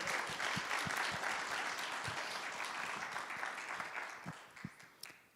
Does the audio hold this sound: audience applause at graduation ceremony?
yes